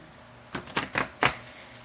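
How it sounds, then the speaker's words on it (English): Tarot cards shuffled by hand on a table, making about five quick, crisp riffling bursts in close succession, near and fairly loud against a quiet room. "Trying not to shake the table while I'm shuffling."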